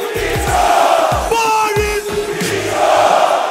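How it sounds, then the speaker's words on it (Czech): A roaring arena crowd in Ostrava cheers after a knockout win at a featherweight title fight, a loud sustained wall of voices with shouts and whoops swelling and dipping throughout. "rozjásal ostravské publikum."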